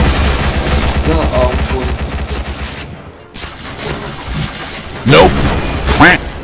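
Rapid gunfire in the online shooter Point Blank, with dense bursts of shots throughout, a brief silent gap midway and a louder volley near the end, while someone talks over it.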